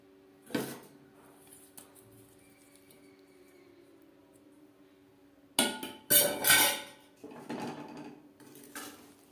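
Fried paneer is folded gently into matar paneer pulao in a pot, a spoon clinking and scraping against the metal in a few bright bursts after a quiet stretch with one early clank.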